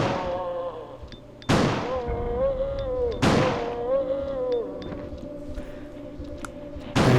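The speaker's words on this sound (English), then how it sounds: "I'm gonna get a shotgun and blow some zombies in half" A shotgun fires at zombies in the Resident Evil 2 prototype (Resident Evil 1.5): two loud, close blasts a couple of seconds apart with a third starting at the end, over ringing background music.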